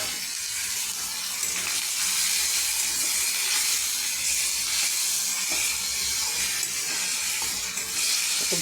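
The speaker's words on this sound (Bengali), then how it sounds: "একটু ভাজা ভাজা করে নেব।" Grated ginger, garlic and onion frying in a pan, a dense continuous hiss and sizzle holding steady throughout with faint stirring underneath.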